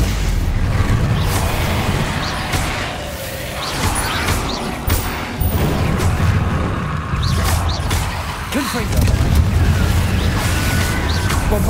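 Confringo and Bombarda spell blasts in Hogwarts Legacy combat, repeated booming bursts and crashes over a busy battle din, loud and close.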